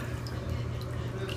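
A savannah monitor lizard named Dexter moves about in bath water, giving a steady, close wash of small splashes and drips with a low rumble underneath, continuous with no clear separate strokes.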